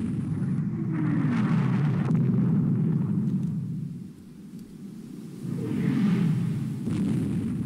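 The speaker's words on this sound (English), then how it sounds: "they're gonna fire their torpedoes at me." Destroyer torpedo attack in the naval game Rule the Waves II, heard as heavy low rumbling explosions that swell, ease off and swell again over several seconds, with no voices.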